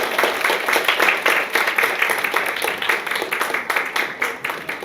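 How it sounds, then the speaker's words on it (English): Audience applause at a kids' grand finale event, a dense steady wash of many hands clapping for several seconds with a faint cheer or two mixed in. "Please have a big round of applause."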